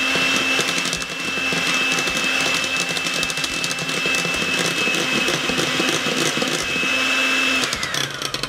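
An electric mixer beats eggs and flour for Salvadoran potato fritters with a steady, loud whirring motor drone and a constant pitch, running without a break until it stops near the end.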